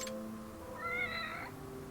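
A cat meows in the video game Lost Judgment, one drawn-out, wavering meow rising out of a quiet game backdrop with a low steady hum underneath.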